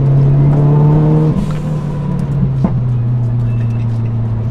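A Ford Focus RS MK1 engine hums loudly and steadily close by, with a shift in pitch partway through and a brief sharp knock, sounding alone without talk.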